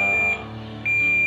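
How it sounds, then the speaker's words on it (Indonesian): A cheap secondhand laptop with no battery gives a steady, high electronic beep when its power button is pressed, the tone dipping briefly midway before returning for just over a second. "indikator nyala, bunyi beep"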